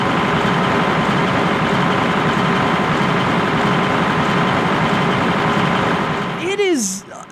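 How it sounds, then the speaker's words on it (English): A tractor engine drones steadily in the Farming Simulator video game, a loud continuous rumbling hum that ends near the close with a brief sweeping whine. "Walk to the tractor. Attach the plow. Start driving."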